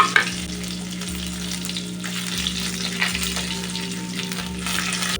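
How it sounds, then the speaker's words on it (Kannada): Curry leaves, urad dal and dried red chillies fry in hot oil with a loud, continuous crackling sizzle, over a steady low hum that pulses on and off in the background. "ಇದನ್ನು ಹಾಕಿ ಚೆನ್ನಾಗಿ ಫ್ರೈ ಮಾಡೋಣ."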